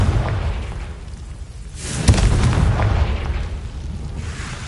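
A Confringo fire spell goes off in Hogwarts Legacy, a sudden loud boom near the two-second mark that rolls into a sustained rumbling blast over a low, busy game soundscape.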